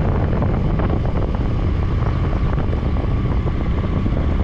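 A motorbike rolls along a wet, rainy road with its front mudguard removed, so the wheels fling water spray. A dense, steady roar of engine and wind rushes on without a break, and no one talks.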